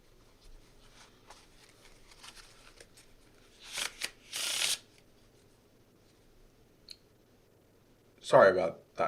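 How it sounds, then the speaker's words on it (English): Brief bursts of riffling playing cards being shuffled, quiet ones followed by a louder flurry near the end, over low background murmur and faint clicks. "I was just playing with a deck of cards."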